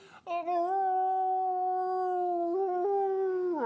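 A voice imitates a lion's sad roar as one long, mournful, tonal howl, held steady and close, then shifting pitch and falling away at the end.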